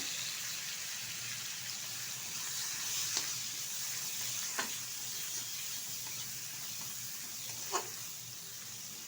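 Prawns stirred and fried in oil while cooking taro-leaf greens, a soft continuous sizzle with a few faint utensil clinks and scrapes, fairly quiet throughout.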